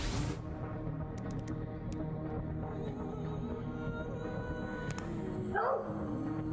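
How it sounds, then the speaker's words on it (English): A dog in a video game barks and yips a few times over a steady wash of game music and ambience, the calls fairly faint and partly buried in the mix. "Okay, so a dog."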